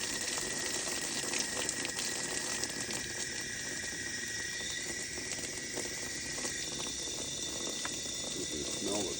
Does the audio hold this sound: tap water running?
yes